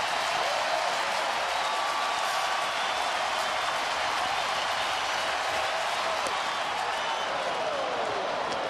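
A baseball stadium crowd of about 45,000 at a Reds–Phillies game rises to its feet, cheering and applauding in a steady, broad roar that fills the whole span without letting up.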